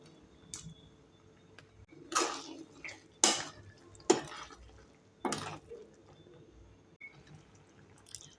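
Fried paneer added to a pan and stirred in for matar paneer, heard as several distinct scraping and clattering strokes of a spoon against the pan, separated by quiet gaps.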